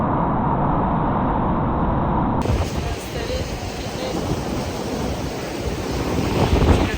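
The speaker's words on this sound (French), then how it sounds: "Le vent est un peu capricieux," Gusty, capricious wind blowing outdoors near a small fort by the sea in rainy squalls, a steady broadband roar that buffets the microphone and swells again toward the end, continuous with no clear pauses.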